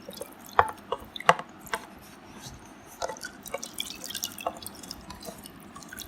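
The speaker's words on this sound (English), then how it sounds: "So now in clean water I will be washing the utensil" Water dripping and splashing as a plastic utensil is rinsed in clean water, with a few sharp close drips early on followed by lighter trickling and sloshing, no voices.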